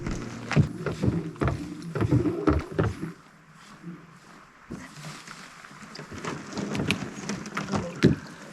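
A small boat, likely a rowing boat or canoe, knocks and splashes about on the water on a Scottish hiking route, with bumping, sloshing and wind across the microphone, easing to a quieter patch before the knocking resumes.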